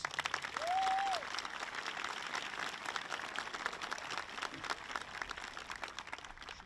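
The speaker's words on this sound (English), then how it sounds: "How about another round of applause for our musicians?" Audience applause for musicians at an 8th grade celebration, a dense, steady patter of many hands clapping at moderate distance, with a brief tonal whistle-like sweep near the start.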